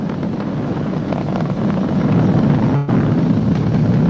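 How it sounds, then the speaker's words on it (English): Falcon 9 rocket engines roar steadily during a Crew Dragon launch, a loud continuous low rumble with wind-like buffeting, heard alone for about four seconds with a brief dip near the end. "We're throttling down to get ready for the period of maximum dynamic pressure."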